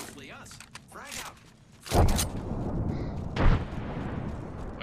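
A frag grenade blast in Apex Legends rolls out as a loud, broad boom partway through, with a second burst soon after, following a voice talking over game noise.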